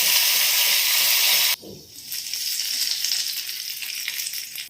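Loud, steady sizzling of mustard seeds and urad dal frying in hot oil for a coconut chutney tempering, which drops suddenly and then crackles on more softly with scattered pops.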